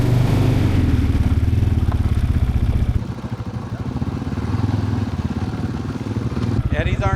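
RPS Cruiser 250 and 300 motorcycles ride together on a sandy road near Crystal River toward Ozello, their engines droning loudly and continuously amid wind rush and clatter, with a brief dip in level midway.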